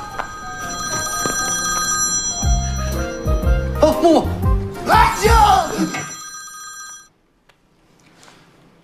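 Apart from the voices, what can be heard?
mobile phone ringing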